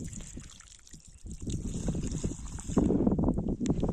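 Water poured onto a newly planted pomegranate sapling on a farm plot: a steady splashing gush soaking into the soil, close by and continuous, growing a little fuller toward the end.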